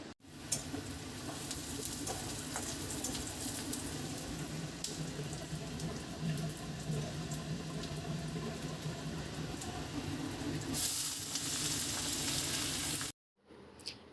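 Leftover greens frying in a pan make a steady, watery hiss with faint stirring, continuing for most of the stretch before cutting off abruptly near the end.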